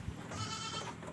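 A single goat on a goat farm gives a drawn-out bleat that sounds fairly distant and soft against low background noise.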